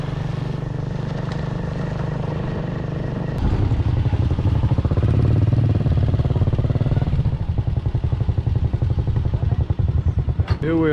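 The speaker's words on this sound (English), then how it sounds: "Our engineer, Avi Philosoph and Peter Manns went ahead by motorcycle on a very dusty road" A motorcycle engine drones steadily close by on a very dusty road in Bolivia, its low rumble growing louder partway through, with rattling and road noise throughout.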